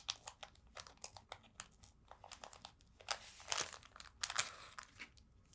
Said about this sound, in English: It is noisy with the paper.